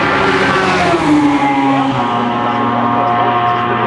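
Loud, sustained engine roar of a Peugeot LM P1 prototype racing through Blanchimont at Spa-Francorchamps during a Le Mans Series race, a continuous high-revving drone with a slight falling pitch as the car passes.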